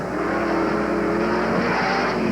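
A modified autocross car on Hoosier tires accelerates hard on the course, its engine a loud, steady drone held throughout with no pause and no voices.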